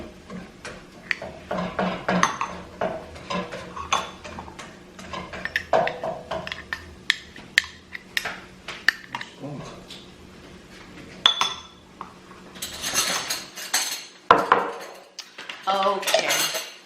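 A spoon scrapes and scoops a thick avocado hair mask mixture in a bowl, giving a string of close clinks, taps and soft scraping strokes against the bowl, with brief pauses between scoops.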